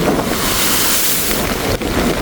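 Storm waves and rushing floodwater at Jaffna during a cyclone, a continuous loud roaring surge battered by heavy wind noise on the microphone, close and unbroken throughout.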